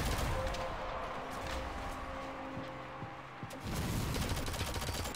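Rockets fire during a Shadowgun Legends team PvP match: a burst of blasts and crashes at the start gives way to quieter tonal game sounds with a few sharp hits, then another loud rush of explosive noise.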